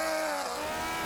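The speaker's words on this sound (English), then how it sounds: "Some wheel spin." Supercharged Suzuki Hayabusa motorcycle spinning its rear wheel at a drag race launch: a loud, sustained high-pitched engine and tire whine filling the whole moment with no talk over it.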